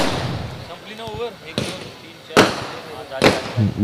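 A voice, then three sharp fireworks bangs at 3 a.m. during a cricket tournament, at uneven intervals, the loudest in the middle, each cracking out over quieter background noise.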